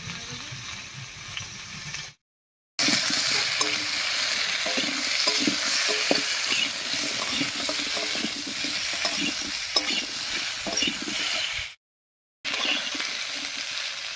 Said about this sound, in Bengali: ফোড়নের উপরে ফুলকপি আর আলুটা দিয়ে একটু নাড়িয়ে নিয়েছি